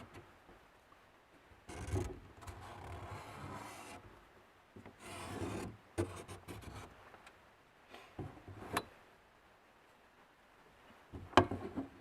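A marker drawing a line on a surface before cutting an inspection hatch, quiet scratchy strokes in several short bursts separated by pauses, with a couple of sharp taps.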